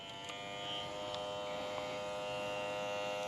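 A professional cordless electric hair clipper running steadily, a close, even buzzing hum with bright high harmonics that holds constant with no talking.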